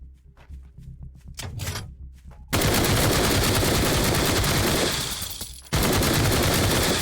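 An automated turret in the Night of the Dead survival game firing rounds at about ten per second, a loud continuous burst of gunfire that breaks off briefly and resumes, after a quieter stretch of scattered clicks and movement.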